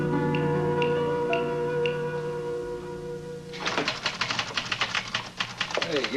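Rapid clatter of typewriter keys being struck by a woman at a machine, dense irregular keystrokes starting partway through after a stretch of quiet room tone and music, fairly close and loud.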